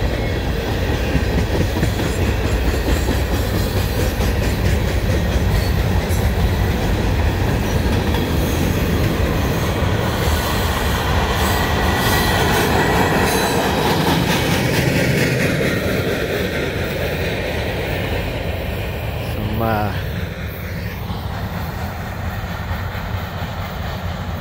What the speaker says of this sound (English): Loud wheels on that one. Need to be resurfaced.